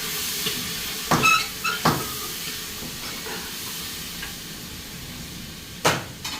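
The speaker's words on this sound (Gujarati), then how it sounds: "ગવારનું શાક વઘારે છે" A low, steady frying hiss as cluster beans are tempered in hot oil, with a few sharp clatters of a spoon against the pan; no talking.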